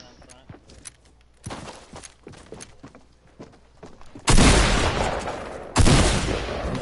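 Shotgun blasts in a PS4 shooter game: two loud, full-bodied booms about a second and a half apart, following a stretch of quieter footsteps, thuds and scattered softer shots under faint talk.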